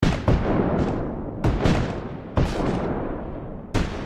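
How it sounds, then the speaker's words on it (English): Four heavy booms of Civil War artillery cannon fire at the Battle of Franklin, each a sharp blast followed by a long rolling decay, spaced roughly a second apart. "you would hear the explosive sounds of artillery"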